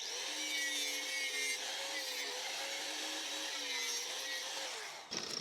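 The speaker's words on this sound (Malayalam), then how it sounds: "ഇനി അടുത്തത് നമുക്ക് ഈ ഒരു സാധനത്തിൻ്റെ പീസ് കുറച്ച് മുറിച്ചെടുക്കണം" A power saw cuts through a piece of VOX wooden ceiling panel, running as a steady, fairly loud whine for about five seconds before stopping abruptly.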